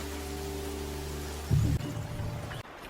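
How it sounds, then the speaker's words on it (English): Steady rain falls across a wet outdoor scene, a broad continuous hiss with a low rumble underneath and a brief louder swell in the middle before it settles again. "Rain's easing."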